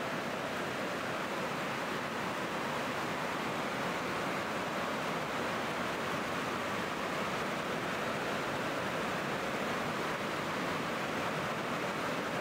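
Steady rain falls on a plastic greenhouse sheltering succulents, a dense continuous hiss and patter that stays loud and even throughout, with no voices.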